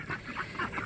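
A short burst of honking, nasal quacks from ducks on a homestead, a few quick calls close by with no talking.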